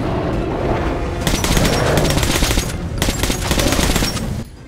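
Grenade explosions in Metro Last Light Redux: loud, dense blasts and rumbling debris in two long bursts, close and filling the space, then cutting off abruptly.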